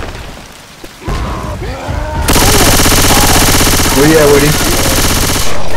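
Sustained automatic gunfire from Left 4 Dead 2 gameplay on Expert Realism, a dense loud rattle of rapid shots, with a short voice speaking just before it starts and the shooting running on without a break.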